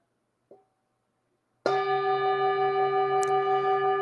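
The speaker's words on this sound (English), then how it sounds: "I'm going to invite the bell." A soft tap, then a single meditation bell is struck and rings out clearly, its pure tone sustaining and slowly pulsing in a quiet room.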